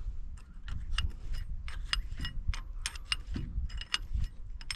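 Bolts are threaded by hand into the final drive cover on the old-style front drive axle of an MTZ-82 tractor, making rapid close metallic clicks, ratcheting ticks and rattles in uneven bursts, with no talking.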